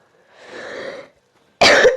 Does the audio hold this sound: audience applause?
no